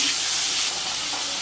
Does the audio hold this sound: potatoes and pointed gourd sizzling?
yes